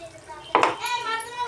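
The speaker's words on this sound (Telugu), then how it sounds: "యాడ్ చేసి బాగా కలుపుకుందాము." A spoon knocks against a hot pan while onion, tomato, green chili, garlic, coriander, curry leaf and mint paste is mixed for a chicken dish, giving one short close clatter over a soft background hiss.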